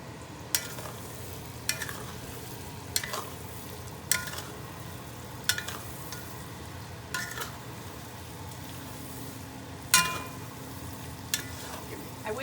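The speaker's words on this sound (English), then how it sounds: "I'm going to add just a little bit of my breadcrumbs into the pan here, just to let them soak up a little bit of this juice." Sausage stuffing with breadcrumbs sizzles steadily in a pan, the constant frying hiss broken by sharp, regular scrapes of a utensil stirring every second or so.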